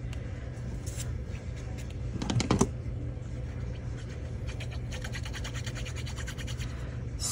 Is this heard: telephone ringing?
no